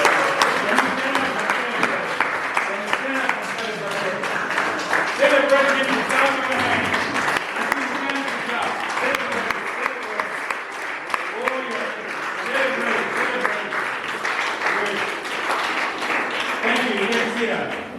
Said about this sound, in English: it means you don't stop clapping